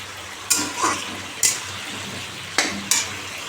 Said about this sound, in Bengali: তরকারিটা বসিয়েছি নুন হলুদ সব দিয়ে দিয়েছি